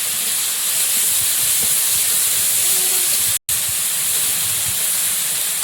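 Ginger garlic paste hits hot oil already seasoned with panch phoron and bay leaves, giving a loud, steady, close sizzling hiss that runs throughout, broken only by one brief cutout.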